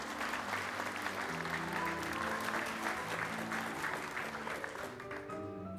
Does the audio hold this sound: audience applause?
yes